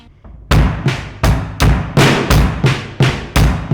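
Close, loud beginner drum groove built from a paradiddle, sticking on the hi-hat with kick drum accents, producing a steady run of punchy hits that begins after a brief quiet lead-in.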